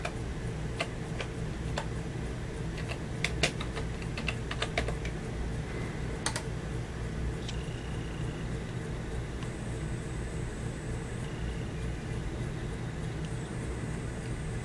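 Keys clatter on a computer keyboard as a game search is entered, with scattered clicks and short bursts of typing separated by pauses over a faint steady hum, no voices.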